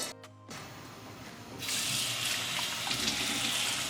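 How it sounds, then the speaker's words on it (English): Water pours steadily from a tap into a rice cooker pot, a soft hiss that swells louder partway through and keeps running to the end, no voices. "I am going to add water up to the 3-cup measurement in my rice cooker"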